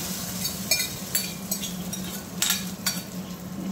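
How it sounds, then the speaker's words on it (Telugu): Soft, steady sizzling of hot tempering poured into coconut chutney, with faint spoon-stirring scrapes and a low background hum throughout. "ఇప్పుడు ఇదిగోండి, చట్నీలోకి పోపును వేసేస్తున్నాము"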